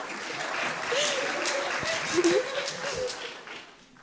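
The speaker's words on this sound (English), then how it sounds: "Clap. You're supposed to clap." A small audience at a junior class play claps briefly at moderate loudness, with voices and a chuckle mixed in before the clapping trails off.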